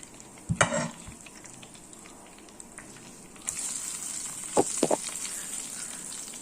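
Karimeen (pearl spot fish) frying in a pan: a low sizzle that swells louder midway as a new batch goes in, with a few sharp clatters of a utensil against the pan and no talking.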